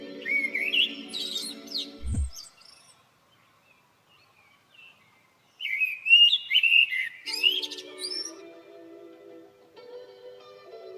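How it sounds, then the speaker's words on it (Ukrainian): Birds chirp and whistle in short bursts, fairly soft, with a quiet pause in the middle before the singing resumes. "спів птахів"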